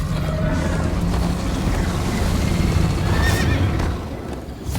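A horse whinnies and gallops with rapid clip-clop hooves in the game Minecraft Story Mode, loud and close over a rushing, noisy background during a chase.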